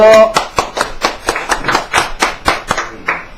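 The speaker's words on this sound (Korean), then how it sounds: "박수!" Hands clap in a steady run of about a dozen sharp, evenly spaced claps, close and loud, at the close of a class on the I Ching given as a final special lecture.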